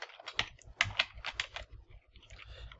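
Close, crisp keystrokes on a computer keyboard come in quick irregular bursts with brief pauses, tapping alone without any voice.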